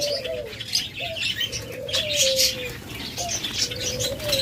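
Doves coo steadily in drawn-out, gently falling phrases, with bright chirping and a light flutter of wings filling the background.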